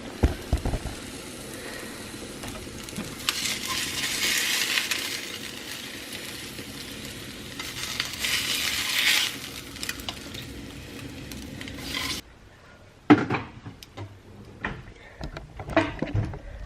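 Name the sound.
taking cooked eggs out of a frying pan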